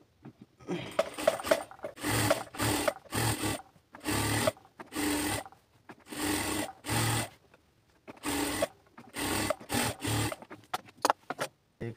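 A sewing machine stitches a salwar seam in a string of short, close runs that start and stop with brief pauses, a rough, rasping whir.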